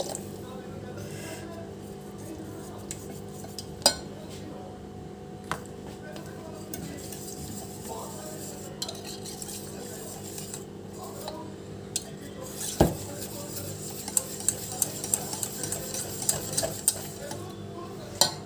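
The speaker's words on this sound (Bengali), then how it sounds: "ভালো করে নেব, একদম ফেটিয়ে নেব। আর একটু জল দিয়ে দেবো।" Jalebi batter with added water is beaten in a bowl, with quiet whisking and stirring and occasional sharp clinks of utensil against the bowl. Someone talks over it.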